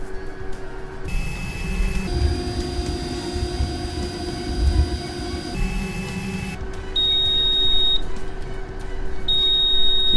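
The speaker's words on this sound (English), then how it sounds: "The audible beep lets us know that the bearing has reached the temperature that we have desired." A VOLCANO induction heater warming a bearing gives off a steady electrical hum with shifting tones, then near the end repeated bright, short beeps signal that the bearing has reached its set temperature.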